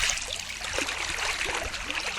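Gentle stream water trickles and gurgles steadily in a hot summer setting, a soft continuous flow at close range with no talk.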